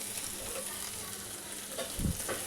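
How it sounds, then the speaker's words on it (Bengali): Chicken fries in a pan with half a cup of cream, giving a steady close sizzle with brief stirring scrapes and bubbling near the end, no voices. "এখন ক্রিমটা দিয়ে আমি এটা আরেকটু ভেজে নিব।"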